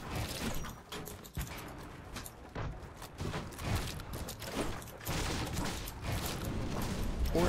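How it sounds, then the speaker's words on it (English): Drum gun in Fortnite firing in rapid repeated bursts, dense clattering shots coming in waves with brief gaps, fairly loud and close. "I'm just gonna drum gun spam."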